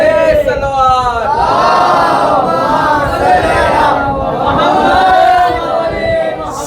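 Large crowd at a Shia majlis mourning gathering chanting religious slogans in unison, loud and close, a sustained swelling roar with rising and falling voices.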